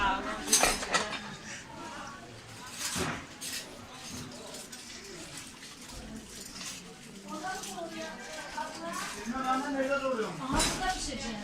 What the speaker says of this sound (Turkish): Kahvaltıdan sonra bulaşık galiba.